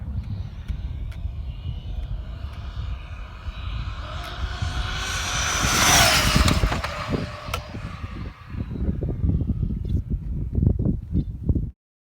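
A high-speed Arrma Infraction V2 RC car with a high-speed pinion gear makes a loud, sustained whining, roaring pass outdoors, swelling as it speeds by around the middle and then continuing with rough mechanical rumble before cutting off.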